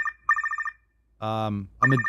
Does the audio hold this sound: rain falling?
no